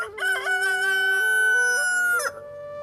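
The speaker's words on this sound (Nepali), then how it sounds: "दिनको सुरुवात सूर्यको उदयले ल्याउनु अगाडि नै कुखुराले सङ्केत दिन" A rooster crows once at close range, a loud, drawn-out cock-a-doodle-doo that cuts off sharply, with no talk.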